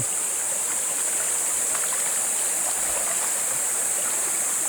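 River water flowing steadily beside a cornfield irrigation area, a continuous close rushing and babbling wash with no pauses.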